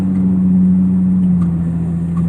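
A Nissan 350Z fitted with a Z1 Motorsports M-Spec Y-pipe-back dual exhaust, heard from inside the cabin while cruising in third or fourth gear, gives off a steady, low, humming engine drone at constant speed, with no voices present.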